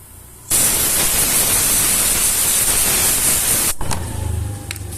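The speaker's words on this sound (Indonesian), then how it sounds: "Oke, kita semprot dulu ya." Cleaner sprayed from an aerosol can onto an electrical connector of a Honda Vario 125 scooter with a total LED failure: a loud, steady hiss lasting about three seconds, then a brief clatter of handling.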